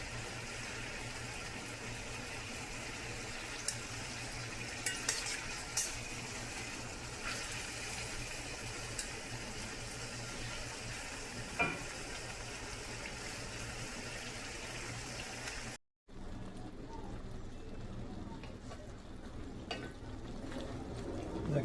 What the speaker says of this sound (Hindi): देखिए माशाल्लाह कितना ज़बरदस्त ये फ्राई हो रहा है।